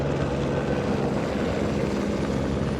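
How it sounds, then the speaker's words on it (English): A helicopter drones steadily overhead, its deep rotor thrum loud and unbroken throughout, with no voices. "There's a helicopter passing over"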